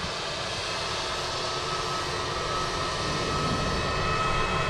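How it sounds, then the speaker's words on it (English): EasyJet airliner rolling for takeoff at Manchester Airport, a steady broad jet engine roar heard from a distance that swells slightly toward the end, with no talk. "EasyJet's rolling, we can just see the Qatar now as well."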